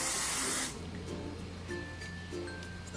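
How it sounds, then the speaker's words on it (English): A short, loud hairspray aerosol hisses up close, then cuts off, leaving quiet room noise behind. "I give it a nice spray all over"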